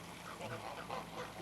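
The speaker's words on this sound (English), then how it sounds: "ducks and geese, and a happy farmer" Ducks and geese on a farm pond quack and honk in a faint, steady chorus, calls overlapping without pause in a low, distant wash of sound.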